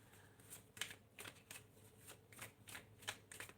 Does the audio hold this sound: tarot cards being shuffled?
yes